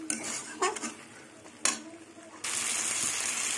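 Prawn curry being sautéed in a pan: a few close metallic clinks and scrapes of a utensil against the pan, then a steady, bright sizzle takes over.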